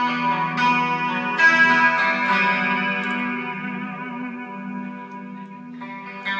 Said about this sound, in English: dial both of them to 0, which gives you what they would call a detune effect.